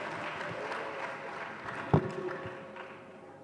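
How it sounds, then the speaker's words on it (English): Scattered, fairly faint clapping from an audience at a university centennial celebration, with a steady noisy patter across the whole stretch and one sharper tap near the middle. "That creativity deserves a more thunderous hand clap."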